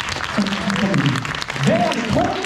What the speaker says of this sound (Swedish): En applåd för Nacka kommun lite sådär